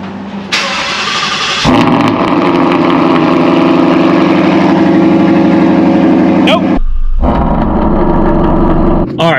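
A car fitted with a Corsa Extreme exhaust cranks and fires up into a loud, raspy idle, a sharp blip, then cuts out briefly before restarting and rumbling on, close and dominant.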